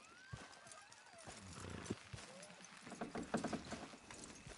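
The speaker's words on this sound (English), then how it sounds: "Horses will pull it clean down." Horses in Red Dead Redemption 2 straining to pull down a structure, with hoof clip-clops, a whinny and creaking mechanical strain over a busy game soundscape, some indistinct voices nearby.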